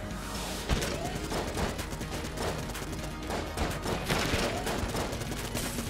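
Rapid bursts of video game gunfire in Enter the Gungeon during a boss rush, a dense, continuous barrage of shots and impacts that carries steadily across the whole stretch with no clear pauses.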